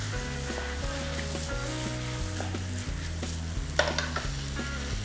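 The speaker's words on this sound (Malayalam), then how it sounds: "ആഡ് ചെയ്തതിന് ശേഷം നമുക്ക് ഇത് നന്നായിട്ടൊന്ന് മിക്സ് ചെയ്യാം." Marinated chicken for kadai chicken sizzling loudly in a hot pan as it is stirred and mixed, a steady close frying hiss with occasional scraping clinks of the spoon, no talk.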